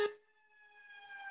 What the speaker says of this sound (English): We'll let the ambulance go by.